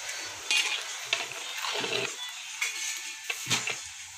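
Mutton is stirred with spices in a metal pot at a Patna street food stall, with a ladle scraping and clinking against the pot in irregular bursts between quieter pauses.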